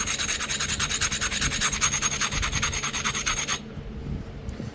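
Edge of a flint slab preform being ground for a tomahawk, fast rhythmic rasping strokes close up for about three and a half seconds, then stopping abruptly.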